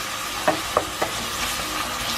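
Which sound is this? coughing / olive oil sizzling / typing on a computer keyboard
olive oil sizzling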